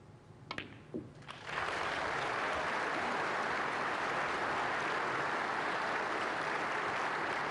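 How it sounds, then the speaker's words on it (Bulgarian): Snooker exhibition crowd applauding in a Sofia arena during a Judd Trump versus Jack Lisowski frame, a few scattered claps quickly swelling into sustained, dense, steady applause that fills the hall. "Публиката аплодира"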